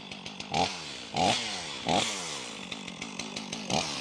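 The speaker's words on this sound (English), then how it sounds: "trying out a new chainsaw" A chainsaw cuts through a large piece of birch, engine droning steadily with repeated louder surges as the chain bites into the wood, close and alone with no talking.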